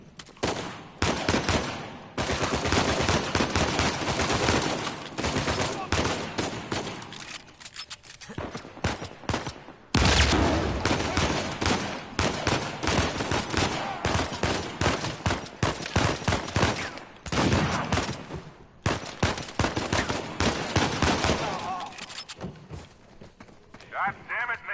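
Gunfire in Uncharted 4 crackles as dense, sustained volleys of shots, loud and continuous over about twenty-five seconds, with brief dips but no pause.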